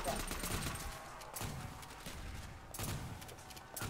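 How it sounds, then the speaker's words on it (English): Shotgun fire in a Call of Duty zombies map sounds as several sharp, loud blasts spaced a second or so apart over a busy game background, mixed with other gunfire. "I've never seen a zombie take a full shotgun shell to the face and still want me."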